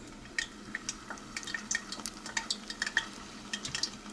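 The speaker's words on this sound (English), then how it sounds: "it's going into the deep fryer" Battered shrimp dropped into a deep fryer, giving quiet crackling and intermittent sharp pops and spits of hot oil over a soft bubbling hiss, heard close but at low level.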